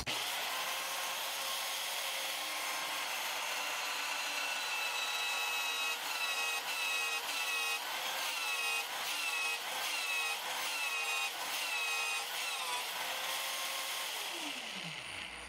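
An Evolution magnetic drill grinds steadily through a steel train rail, a harsh whining bore with shifting tonal squeals, continuous and close, winding down at the end; no speech.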